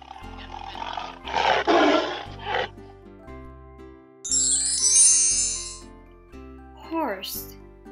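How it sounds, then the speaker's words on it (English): Tiger roar, a broad burst of growling roar lasting under a second amid musical tones, with a bright chime sweep and a rising squeal later, moderately loud and close. "Tiger."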